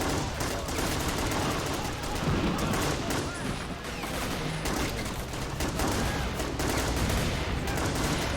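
Dense, continuous gunfire fills a battle in the Men of War battle simulator game: a relentless fusillade of overlapping shots, near and distant, crackling without pause.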